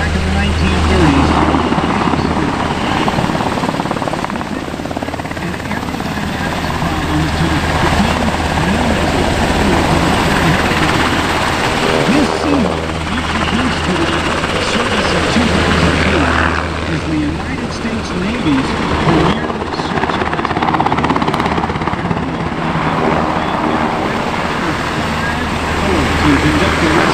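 US Navy Sikorsky MH-60S Seahawk helicopter flying a search and rescue demonstration at NAS Key West, its loud steady rotor thump and turbine roar droning throughout, close and powerful with no letup.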